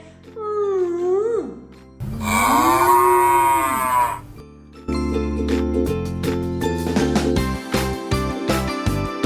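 A cow moos several times, long drawn-out lows, with a brief gap between calls and a rhythmic tinkling or clattering toward the end.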